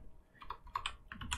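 Quiet typing on a computer keyboard, a quick irregular run of soft clicks and taps at close range, with no voices.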